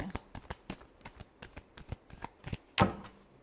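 Tarot cards being shuffled by hand, a run of quick, crisp riffling snaps repeating in an even rhythm, close and clear, ending on one louder final shuffle.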